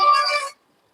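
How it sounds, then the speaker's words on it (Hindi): A mobile phone ringtone sounds once, a brief bright electronic tone lasting about half a second before cutting off into silence. "एक मिनट, मेरा फोन बज रहा है।"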